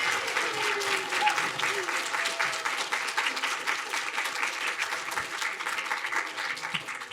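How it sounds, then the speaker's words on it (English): A seated audience at a UCLA nanoscience pitch competition finals applauds steadily for the mentors standing up, a dense, continuous wash of many hands clapping at even loudness throughout, with a faint murmur of voices mixed in. "please stand up so we can give you a big, big cheer"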